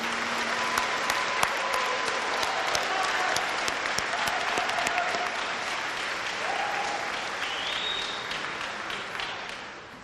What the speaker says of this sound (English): Give one more round of applause for the award recipients.